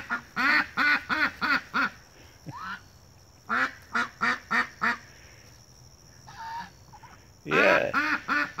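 Female ducks quack loudly and close by in bursts of four to six rapid, harsh calls, with short pauses between runs and a final loud flurry.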